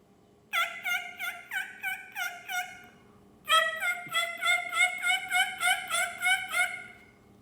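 Turkey mouth call, a hunter's diaphragm reed sealed against the tongue, imitating a wild turkey: a run of six sharp yelps, a pause, then a longer louder string of about a dozen raspy yelps, close and clear with no talk.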